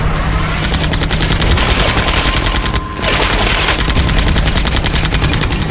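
Loud, rapid automatic gunfire from a Tekken 8 video game trailer rattles almost continuously, a dense stream of shots with a brief dip near the middle.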